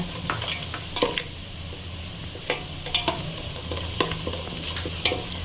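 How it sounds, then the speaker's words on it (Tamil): Ten cashew nuts hit a hot pan of oil for prawn biryani, giving a soft continuous frying hiss with scattered scrapes and taps of a stirring spoon. "இதில் எடுத்து வச்சுருக்க அந்த 10 முந்திரியை போட்டுடலாங்க"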